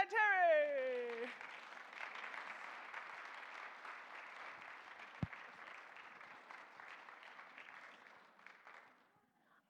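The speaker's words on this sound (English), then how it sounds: "So I'd like to introduce, to a round of applause, Kiana and Terry." Audience applause at a morning community gathering, a steady broad wash of clapping from a mid-sized crowd that fades out toward the end, with a voice speaking over the first second.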